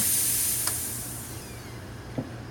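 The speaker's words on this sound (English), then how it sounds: "I'm going to wait till it's done steaming, and then I'm going to turn it back on to purge milk out of the spout." Steam wand on a Breville espresso machine steaming milk, giving a steady close hiss and spray with a low rumble underneath, plus a couple of brief clicks.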